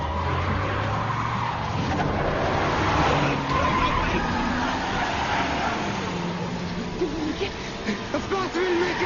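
A car pulls away fast as its tires screech and skid, a long, loud, continuous squeal over the revving engine, with some voices mixed in.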